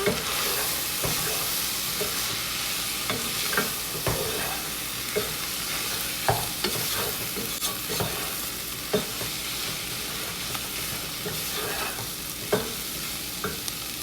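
Ground beef with curry powder sizzling in a pan while being stirred, with a steady frying hiss and repeated scraping knocks of the spoon against the pan, close by.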